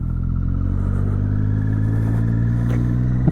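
A motorcycle engine idles steadily before a night ride, a loud, close, continuous low rumble with an even throb and no voices.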